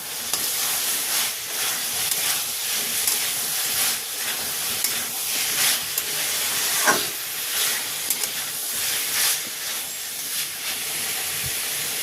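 Pre-fried potatoes are stirred into spice paste in a hot pan for a Bengali water-lily stem curry, giving a steady hiss and sizzle with repeated scraping stirs throughout. No one speaks.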